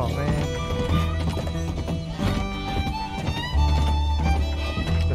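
A horse galloping in the video game Red Dead Redemption 2, with rapid rhythmic hoofbeats and a neighing whinny over a loud game soundtrack, with no one talking.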